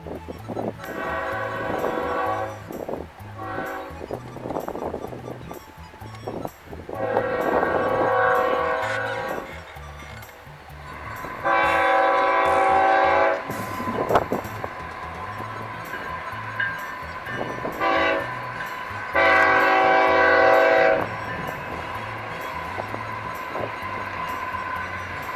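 Train horn blasts several times in long loud bursts, separated by gaps, over the steady rumble of a passing train, heard from a bridge on the Southern Transcon railway line.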